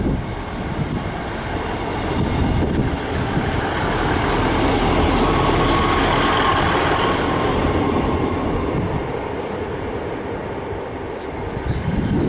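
A train rumbles steadily through Shrewsbury station, a loud sustained roar of wheels and engine that swells in the middle and eases slightly toward the end.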